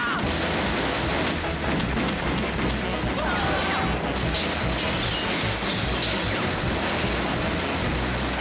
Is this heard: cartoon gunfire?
yes